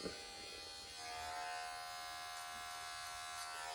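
Electric hair clippers fitted with a one guard cut hair during a low-to-mid taper fade, giving a steady, close, continuous buzz with a slight rise in tone about a second in.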